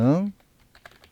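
Faint keyboard typing as a title is entered on a computer, a few soft, sparse key clicks following a brief burst of speech.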